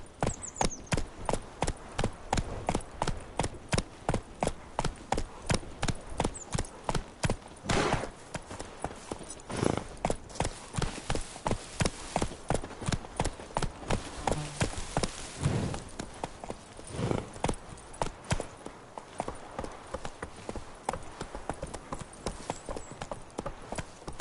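Horse hooves clip-clopping at a fast steady gallop in The Witcher 3, a long unbroken rhythmic run of sharp close thuds with occasional heavier impacts.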